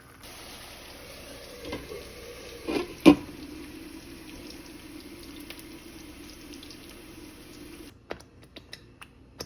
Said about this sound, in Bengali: এখন আমি টমেটো সসটা দিয়ে দেব।